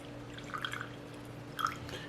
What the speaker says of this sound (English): So let's pour it in.